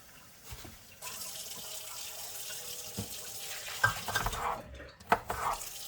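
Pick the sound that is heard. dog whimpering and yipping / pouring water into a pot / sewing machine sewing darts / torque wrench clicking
pouring water into a pot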